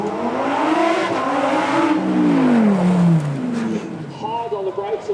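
A Lamborghini Huracán Evo supercar engine revs hard and climbs in pitch as it accelerates, loud and close, then eases off near the end.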